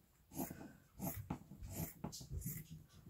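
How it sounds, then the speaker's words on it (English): A small dog draws close, giving soft, quick breaths and snuffles in several short bursts, near and fairly quiet, with no talking. "Oh, got a little dog coming to see me."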